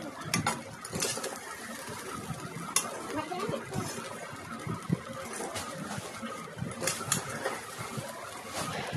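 A spatula scrapes and clatters through fried rice with powdered sugar as it fries in a pan, giving an irregular series of close metallic scrapes and taps over a soft background hiss.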